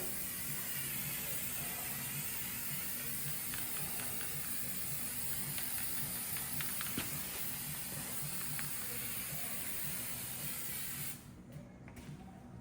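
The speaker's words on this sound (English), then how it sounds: "I find this stuff works good if you spray it really far away" An aerosol can sprays undercoating from a good distance onto a car, giving a steady, moderately quiet hiss that runs almost unbroken and cuts off near the end.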